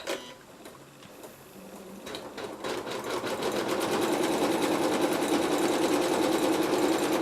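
A sewing machine stitches the seam of a Christmas stocking, starting with a few hesitant stitches and then running in a steady, fast, continuous whir close by.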